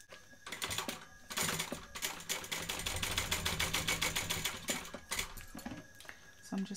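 A sewing machine stitches down the folded end of a bag strap, a fast even rattling run of stitches that holds steady for several seconds between short pauses.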